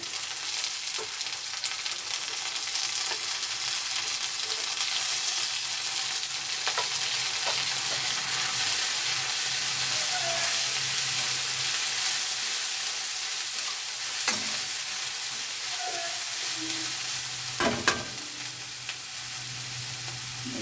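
Onions fry in a hot pan with a loud, continuous sizzle that runs evenly throughout, broken by a few scrapes of stirring, with no voices.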